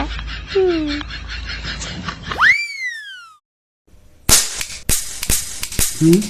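Sharp cracks and bangs of firecrackers burst close by in quick succession after a rising whistle, with voices and shouts around them.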